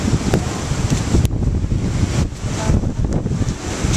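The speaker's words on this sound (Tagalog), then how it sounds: "Lakas ang hangin." Strong seaside wind buffets the microphone in loud, continuous gusts, with waves and surf rushing underneath throughout, close and rough with no break.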